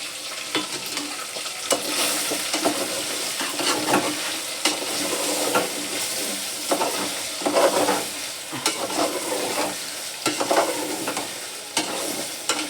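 Ginger garlic paste fries in a pan while being stirred constantly, a continuous sizzle broken by repeated scraping strokes of the spoon against the pan, close and fairly loud, no talking.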